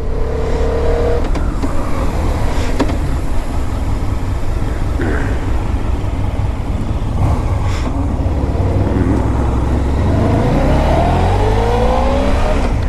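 A 2010 Honda VFR1200F motorcycle engine on a test ride, loud and continuous, with wind rush and pitch rising as it accelerates through the gears near the end.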